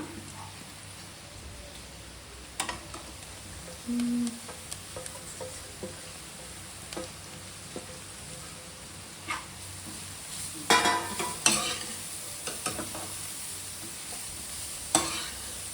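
Carrots for a carrot palya frying in a pan, with a steady faint sizzle broken by occasional spatula scrapes and clinks, no talk.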